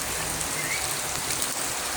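Heavy, steady rain pours down during Typhoon Carina, a dense continuous hiss of drops drumming on surfaces, loud and unbroken with no voices.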